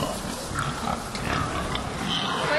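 Crowded pigs packed tightly inside an intensive pig farm shed, a dense, continuous mass of grunts and oinks close to the microphone, with overlapping squeals and shuffling filling the whole stretch.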